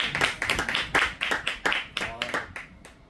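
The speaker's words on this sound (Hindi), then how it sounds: "जीवित परमेश्वर का ताली बजाकर धन्यवाद करें।" A church congregation at a Pune prayer meeting claps in thanksgiving, a run of roughly a dozen sharp, uneven group claps in a loose rhythm, fairly loud and close, with voices mixed in.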